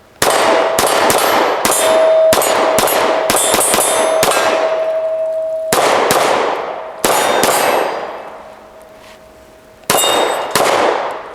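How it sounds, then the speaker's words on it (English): Sharp, loud pistol shots from a P365 X-Macro fitted with an Icarus Precision metal grip module, fired in an uneven string of about a dozen reports with ringing decay between them, close and alone without talk. "Let's do some shooting. Let's test this thing out."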